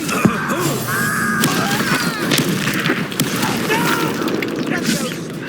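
Confringo fire-blast spells exploding during a duel in Hogwarts Legacy, a string of booming bursts and crackles layered over continuous battle noise and shouted speech.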